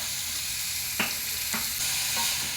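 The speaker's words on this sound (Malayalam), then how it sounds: "ഇനി ഇതൊന്ന് വാടി കിട്ടുന്നത് വരെ അല്പനേരം വഴറ്റുക" Two chopped onions with half a teaspoon of salt sautéing in a pan: a steady, close sizzle with a few soft scrapes of stirring.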